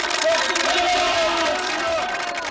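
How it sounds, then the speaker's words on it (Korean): Marine Corps recruits at a boot camp training center burst into sustained applause for their drill instructor, a dense, steady wash of clapping mixed with scattered shouts and whoops from the group. "이경훈 교관의 격려에 훈병들이 박수로 대답을 합니다."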